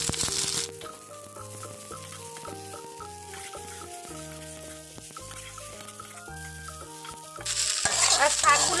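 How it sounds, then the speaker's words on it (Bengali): Fried susni greens are tipped into a pan of sizzling coconut and onion and stirred, spatula scrapes over a soft frying hiss that jumps to a loud sizzle at the end. "এখন আমি এর মধ্যে দিয়ে দেব ভেজে রাখা শাকগুলো"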